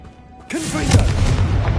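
A sudden booming blast from the Confringo explosive spell in the video game Hogwarts Legacy, loud and close, bursting in after a quiet moment and then rumbling on briefly.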